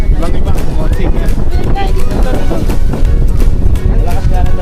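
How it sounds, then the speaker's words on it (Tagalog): Loud, blustery wind on Boracay buffets the microphone in a constant roar, with people talking underneath it. "Malakas nga na talaga hangin dito"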